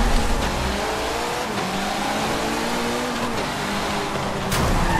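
A race car engine revs hard at the start of a race in Forza Motorsport 7, loud and sustained with a steady roar, with a brief sharp burst near the end and no talk.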